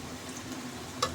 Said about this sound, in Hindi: एक साइड से अच्छे तरीके से ये फ्राई हो चुके हैं